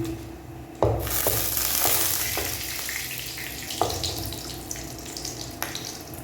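Chicken frying in a kadai pan for a restaurant-style street dish, with loud steady sizzling and spattering, sharp pops and stirring clacks on top, close and continuous with no talking.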